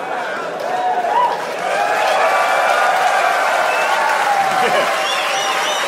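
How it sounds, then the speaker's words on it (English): A comedy-show audience breaks into sustained applause with some cheering, a dense wash of clapping that swells after the first second and holds steady. "That's an applause break."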